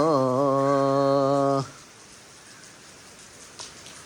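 A sustained, buzzy tone rings out for about a second and a half, then gives way to a soft, steady hiss of falling rain.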